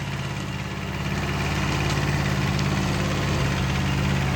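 A Kubota B5001 small tractor engine idles steadily nearby, a constant low throbbing rumble with mechanical vibration and no one speaking.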